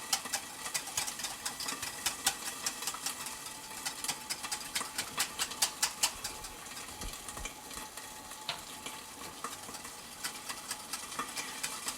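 A sauce being whisked in a pan for roast pork, a fast steady clicking and scraping rhythm of the whisk against the pan, close and fairly quiet.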